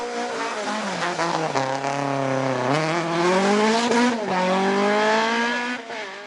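Rally car at full speed on a special stage of the 2013 Galway International Rally, engine howling through rising and falling revs with gear changes and tire noise, loud and close throughout.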